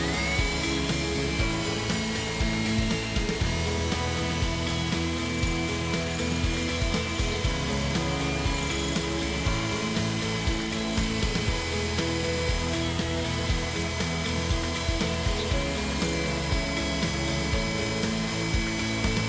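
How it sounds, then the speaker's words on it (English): A drill bit grinds against heat-treated Boron HB 500 wear-edge steel, giving a steady, loud whine with a rough, scraping texture that holds continuously without letting up. "the Boron HB 500 is incredibly resistant to the drill, and the drill bit only penetrates the scale on the surface"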